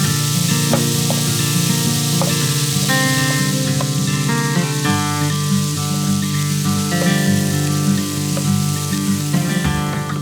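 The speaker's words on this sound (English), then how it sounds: "add in some chopped onion and give it some fry" Ground beef and chopped onion fry in a skillet for Navajo tacos, giving a steady, close, crackling sizzle that runs the whole time while music plays over it.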